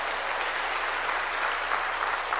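A church congregation claps together in steady, dense applause, a continuous wash of many hands from start to finish at moderate loudness, with no voices standing out.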